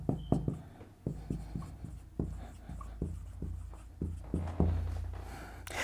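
Writing on a board during a C++ programming lecture, a series of distinct tapping and scratching strokes in an irregular rhythm, close and fairly quiet, with no voice over them.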